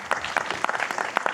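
An audience at an anti-scam summit gives a brief burst of applause, with many hands clapping in a dense, steady patter. No one speaks over it.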